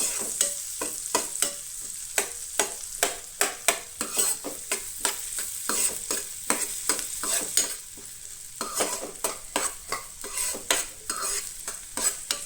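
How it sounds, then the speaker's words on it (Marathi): Chopped onions are stirred and fried in a pan for street-style masala pav, a hissing sizzle broken by repeated sharp scrapes and knocks of a spoon against the pan at an irregular pace. "तेच्या मागीर भितर न्हू कांदो घालात. तोय बरो मिक्स करून घेयात."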